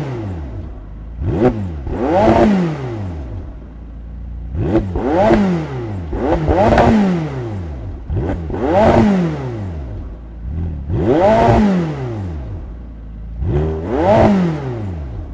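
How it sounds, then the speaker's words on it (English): A McLaren 720S with a 4-litre twin-turbo V8 and sports exhaust revs repeatedly, five or six loud, close blips rising and falling in a steady rhythm with brief idle between them. "That sport exhaust system sounded amazing, right?"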